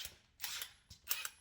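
Impact wrench loosening a tight car wheel lug nut during a tire rotation, heard as two or three short, quiet bursts of rattling hammering with gaps between them.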